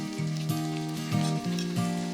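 Carrot, cauliflower and long beans stir-frying in a pan, a close steady sizzle with repeated stirring scrapes and a faint background hum.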